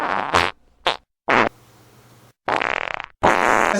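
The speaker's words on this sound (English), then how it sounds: "Did you enjoy the farts you just heard?" Fart sound effects play on a radio show: a quick run of loud, close bursts of varied length, one long drawn-out rasp in the middle, broken by short silences.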